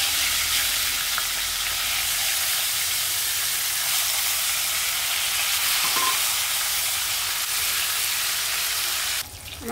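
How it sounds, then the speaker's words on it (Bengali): Fish frying in mustard oil as pieces are turned over, a loud continuous sizzle with light scraping and stirring, cut off abruptly near the end, no speech. "তো মাছটা আমি উল্টে দিচ্ছি।"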